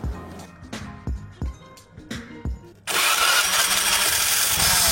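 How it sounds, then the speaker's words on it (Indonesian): A carbureted Honda Vario scooter fitted with a Kevlar racing V-belt and dual clutch bowl is cranked in several short bursts, then catches and runs loud and close with a rough, slightly ticking engine knock. "bisa kalian dengar kalau motor saya itu agak sedikit ngetrik ya, atau ngetrek suaranya"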